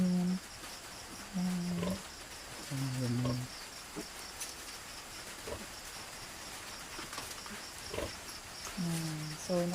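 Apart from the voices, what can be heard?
piglets suckling from their mother sow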